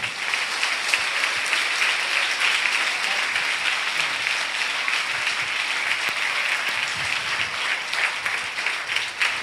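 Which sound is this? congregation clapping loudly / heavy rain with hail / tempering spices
congregation clapping loudly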